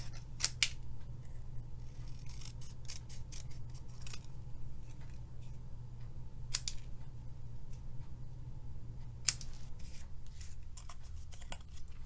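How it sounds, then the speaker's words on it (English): Scissors cutting a paper sentiment, stamped and white heat-embossed, into small rectangles for a card: a quiet run of close, crisp snips at an irregular pace over steady low background hum, no talk. "I cut it into 3 little rectangles."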